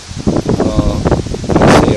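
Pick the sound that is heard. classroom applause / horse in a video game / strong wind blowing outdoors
strong wind blowing outdoors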